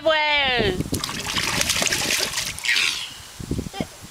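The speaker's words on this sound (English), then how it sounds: "We're watering the driveway." Water sprays and patters onto a driveway outdoors, a splashy hiss with irregular splatter, heard close under a child's squealing and chatter.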